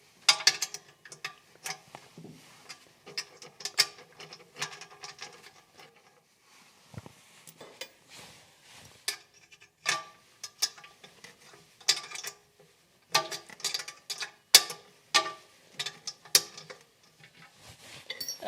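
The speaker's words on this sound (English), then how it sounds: "So what I've got is a little wrench, and I can just loosen them bolts at the back." A small wrench works loose the bolts holding the back brick of a Mazona stove, with bursts of quick metallic ratcheting clicks separated by short pauses, close and fairly quiet.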